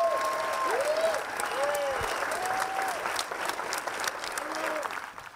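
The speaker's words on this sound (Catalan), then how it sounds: "Aquest era el moment en què el cineasta entrava a l'auditori del Malià, ovacionat pel públic per rebre aquest guardó del festival" An auditorium audience gives a sustained, loud ovation of clapping as the Italian film director Dario Argento enters to receive an honorary festival award, and the applause carries on steadily throughout.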